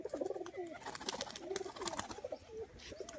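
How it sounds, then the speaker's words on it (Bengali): A black-eyed male pigeon coos in repeated low, rolling phrases, near and clear, with faint background noise and no talk. "দেখুন কালো চোখো একটা নর পায়রা"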